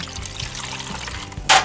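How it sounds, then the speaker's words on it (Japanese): Water pours into a pot holding steamed spiny lobster heads at an outdoor barbecue, a brief close splashing gush at the very end after quiet handling sounds. "これをボーンって入れて水を注いで"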